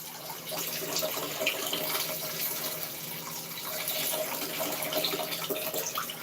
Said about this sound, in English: Excuse me if y'all hear water running.